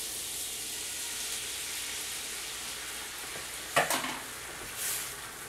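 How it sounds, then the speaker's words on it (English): Herb scrambled eggs fry in a pan with a steady broadband sizzle throughout, a sharp scrape or clatter of stirring near the end, and no voices. "We'll just make some herb scrambled eggs."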